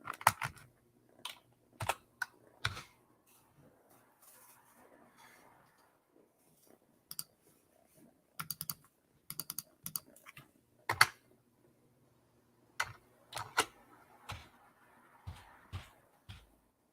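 Typing on a computer keyboard, with bursts of sharp clicking keystrokes separated by pauses and a faint background hum.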